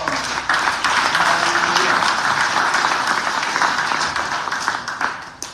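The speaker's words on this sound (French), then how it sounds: "Applaudissons la parole." A church congregation applauds at a morning service, dense sustained clapping from many hands filling the room at full volume before thinning out in the final seconds.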